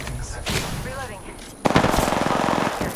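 Machine gun fire in a battle royale video game, a dense rapid burst that erupts partway through and keeps rattling loudly near the listener, with quieter game sounds before it.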